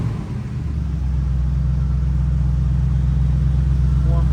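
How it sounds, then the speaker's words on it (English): A cold 1968 Chevrolet Camaro V8 with dual exhaust sits at a high idle after a brief blip, settling into a steady, loud, even rumble close by. "See, it's cold, so it's high idling."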